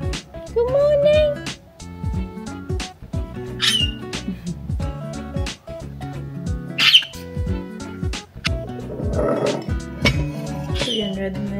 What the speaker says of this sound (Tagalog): nag-iingay yung mga ibon natin